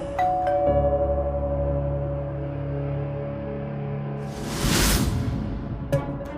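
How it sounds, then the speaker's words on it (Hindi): A doorbell chime rings out with a lingering tone, followed a few seconds later by a quick whooshing sweep and a faint click. "अगले ही पल फिर से डोरबेल की आवाज आई।"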